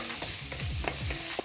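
Garlic frying in hot oil in a pan for a stir fry, a close steady sizzle with repeated stirring scrapes, no voices.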